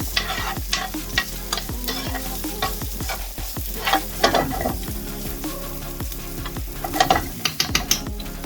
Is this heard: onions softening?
yes